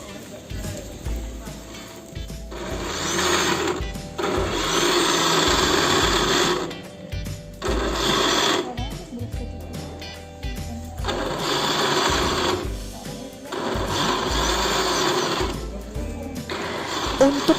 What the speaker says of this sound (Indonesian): sebelum kita masukkan ke blender, kita potong-potong dulu ya